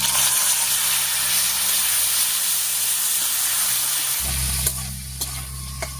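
Cut potatoes dropped into hot mustard oil with whole cumin, dry chili and bay leaf, a loud steady hissing sizzle that settles lower near the end, with a few spatula clicks, close up.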